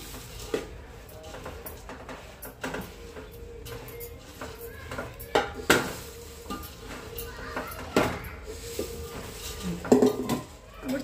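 Puffed rice stirred into jaggery syrup in a metal pot, with a spoon scraping and clinking against the sides in an irregular rhythm, soft crunches and taps running throughout at close range.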